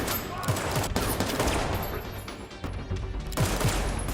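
Sustained gunfire in a military video game battle involving Russian mercenaries in Finland, with dense continuous shooting, sharp bursts and automatic fire, loud and close throughout.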